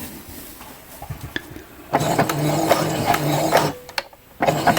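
Sewing machine stitching near the existing seams on a welder's cap, running in short bursts with clattering mechanical rhythm and brief pauses between runs.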